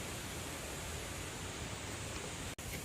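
River flowing beside a campsite, heard as a steady broadband rush of water, loud and even throughout with a momentary dropout near the end.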